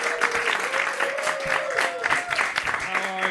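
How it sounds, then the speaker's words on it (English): A comedy club crowd claps and cheers as a roast battle competitor is introduced in New York, a lively burst of dense applause with scattered whoops running throughout. "Start clapping right now."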